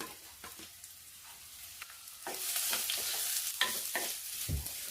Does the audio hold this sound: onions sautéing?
yes